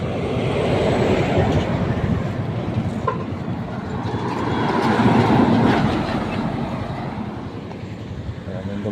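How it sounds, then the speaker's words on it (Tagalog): A large truck passes on a road in Polangui, Albay, a loud, steady rumble that swells and fades over several seconds, heard from a motorcycle ride with broadband road and wind noise throughout. "Ayan yung dumadaan na truck."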